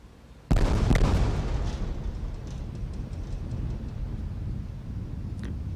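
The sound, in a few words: sonic booms of Space Shuttle Columbia arriving for landing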